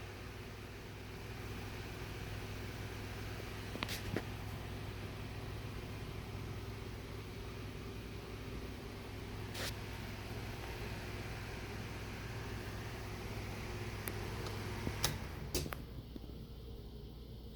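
A 12-inch W brand oscillating fan running on high, a steady broadband whoosh with a low hum, occasional faint clicks and taps over the airflow.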